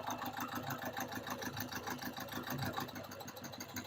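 Car engine idling during a fuel injector test, with injector trouble and white smoke, a steady rhythmic low chug with even pulses, fairly quiet and close, with no talk.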